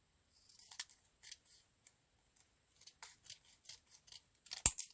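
Scissors cutting a book page, a series of short crisp snips in irregular bursts with pauses between, close and clear, ending with a sharper louder snip.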